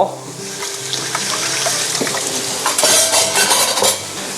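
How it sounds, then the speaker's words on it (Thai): A pork steak hits a very hot grill pan and a loud, steady sizzle takes over, with some metallic clatter of cookware close by. "อันนี้กระทะผมร้อนจัดมาก ผมจะลงหมูละ ลงไปเลย"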